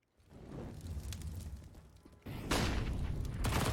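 Gunfire in a CS:GO professional match, Sinners versus FURIA, with a headshot landing: dense bursts of rapid shots and impacts, louder and sharper in the second half, continuous and without pauses.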